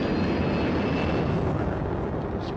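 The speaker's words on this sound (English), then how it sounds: "I never forget how it feels to light those afterburners and feel one light before the other one does" Roaring jet engines of a Lockheed SR-71 Blackbird with afterburners lit at maximum thrust for takeoff, a loud, dense, continuous rumble held steady throughout, with no voices.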